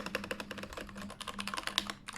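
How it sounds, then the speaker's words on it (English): Close, rapid clacking from a Keychron K8 keyboard with its standard keycaps, a fast uneven stream of distinct keystrokes with brief pauses and no voices. "So this is standard keycaps"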